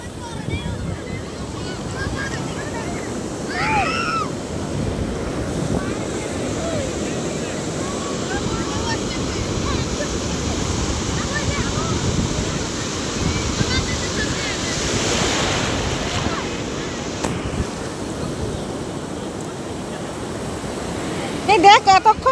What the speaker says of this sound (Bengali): বিশাল বড় বড় ঢেউ আসতেছে একের পর এক একের পর এক